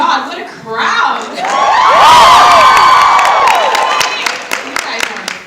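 Fan crowd at a ClexaCon fan convention panel bursts into loud screaming and cheering that builds and holds, then fades into scattered claps and shouts, with a voice talking briefly before it.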